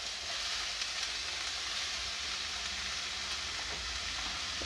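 Finely chopped onion sizzles in hot oil in a pan while a potato paratha meal is cooked, a steady, close, even hiss that runs unbroken throughout with no voices.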